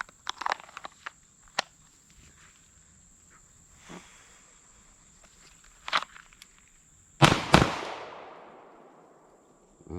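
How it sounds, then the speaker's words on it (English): Pistol shots fired with unreliable ammunition at a paper plate target: a few faint snaps and clicks, then two sharp close reports in quick succession with a lingering echo tail, no talking. "So I just shot my paper plate off."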